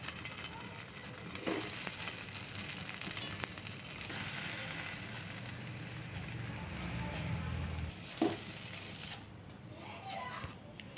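Snack pieces dry-roast on a hot pan with no oil, making a faint, continuous crackle with occasional sharper pops and a scrape, fading near the end.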